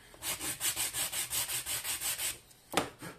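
Rapid rhythmic sanding strokes on a 3D-printed part, about a dozen even back-and-forth rubs close to the microphone, then a brief pause and one final scrape.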